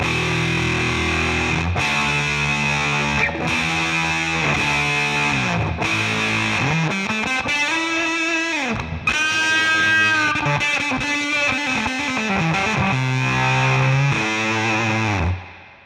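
An electric guitar plays through a Donner Stylish Fuzz pedal with every knob turned fully up. A thick, saturated buzz rings under chords and sliding notes, close and loud and alone, for about sixteen seconds before cutting off.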